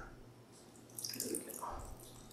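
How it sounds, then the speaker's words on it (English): Water is poured from above into a pot of berries and butter, a brief faint splashing trickle that rises and fades within a couple of seconds. "A little water, a little bit more, a little bit more"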